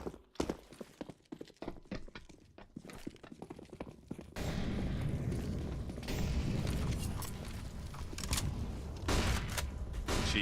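A Counter-Strike HE grenade goes off in a professional match, turning a run of scattered footsteps and clicks into a sudden loud burst and a sustained roar, followed by a few further sharp cracks.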